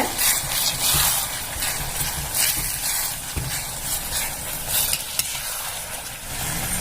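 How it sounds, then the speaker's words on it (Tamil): Chili powder and garam masala being stirred into tomato rice in a hot pan: a steady sizzle with continuous scraping and stirring throughout, fairly close, with no one talking. "நல்லா மிக்ஸ் பண்ணி விட்டுக்கோங்க"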